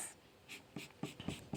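Pencil strokes drawing a retro computer keyboard on paper, several short scratchy marks in quick succession, close and quiet, with no talking.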